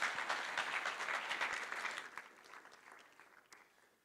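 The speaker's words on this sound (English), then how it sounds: "Please, another round of applause." Audience applause at a staking conference main stage following a presentation, dense steady clapping from a large crowd that gradually thins and fades toward the end.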